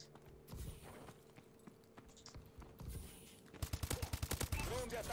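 Gunfire in the video game Call of Duty: Advanced Warfare, quiet bursts of shots early on, then a rapid run of loud, closely spaced rounds near the end, with no talking.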